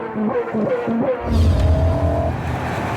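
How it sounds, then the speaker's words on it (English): A BMW M3's V8 burbles on a race track, a low, steady engine note that rises and holds loud after a brief quieter patch of other sound at the start. "It seems at home here, the V8 burbling as it should."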